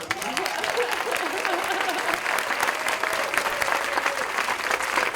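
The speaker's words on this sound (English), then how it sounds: "So I'm going to ask for a quick round of applause for them." Steady, dense applause from a conference audience at a pollinator summit session, filling the room evenly from start to finish with no talk over it.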